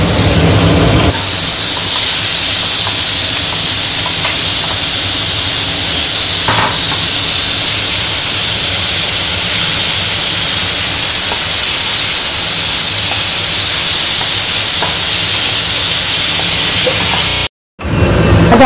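Prawns sizzle loudly in a hot pan for prawn biryani, a steady dense hiss of frying that runs unbroken for most of the stretch, close and with no talking.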